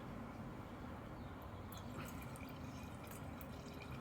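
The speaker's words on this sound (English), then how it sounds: "So we'll see how it pours." Home-brewed beer pours from a bottle into a glass, a soft continuous glugging fill with light dripping, close but quiet, with no talking.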